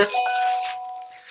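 A phone notification chime sounds once, a bright tonal ding with sustained ringing partials that slowly decay over about a second, clear and close with no talking.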